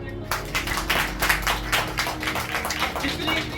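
Church congregation claps for the pastor during a Hindi Bible sermon, a dense, steady wash of many hands over a continuous low hum, sustained throughout at moderate loudness.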